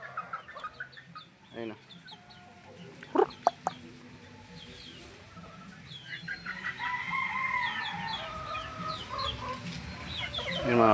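Gamefowl hens and chickens cluck and call in a breeding pen, with scattered clucks early and a rising chorus of crowing and squawks later; someone speaks briefly at moderate distance.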